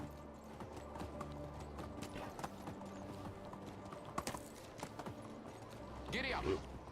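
Horse hooves clip-clopping in the medieval survival game Medieval Dynasty, a steady rhythmic trot throughout with a brief louder thump midway and a voice urging the horse on near the end.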